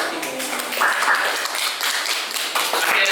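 A classroom of students claps for a group returning to their seats after presenting in a mathematics lesson, a brisk burst of close, uneven hand claps from a modest crowd, with a voice faintly under it.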